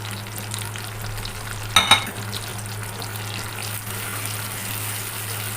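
Spices frying for arbi masala in a pan, a low steady sizzle with a short pair of metallic scrapes from a stirring spoon near the start, fairly quiet and close, no voices.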